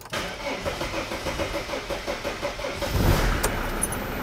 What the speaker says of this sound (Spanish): ahora voy a darle a encender y ver a cuánto cambia